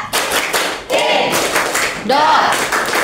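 A classroom of students claps out the Tepuk Indonesia chant, with sharp rhythmic hand claps in short groups mixed with voices chanting together, loud and close.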